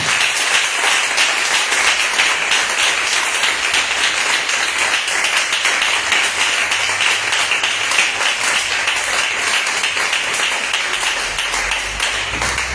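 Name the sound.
congregation applauding in church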